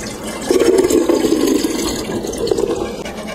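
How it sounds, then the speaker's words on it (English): Water from cooked beans, soaked overnight and simmered with bay leaves until very tender, pours out as they are drained, a steady close splashing gush that swells after a brief start and carries on for several seconds with no talking. "Drain the beans."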